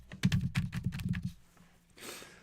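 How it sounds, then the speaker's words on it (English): Someone types on a computer keyboard in short, quick bursts of soft clicks close to the microphone. The typing stops partway through, and a brief faint rustle follows. "That's certainly not me typing in the background."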